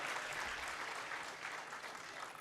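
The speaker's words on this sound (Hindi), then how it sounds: "हम सब जोरदार तालियां बजाएंगे" A Catholic congregation at a Christmas Eve Mass claps together, a steady, fairly faint wash of applause across the whole moment with no speech over it.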